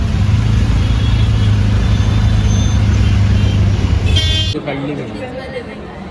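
Loud, dense roadside traffic with a constant roar of passing cars and buses and a short horn toot, before the noise drops away suddenly, with people speaking nearby.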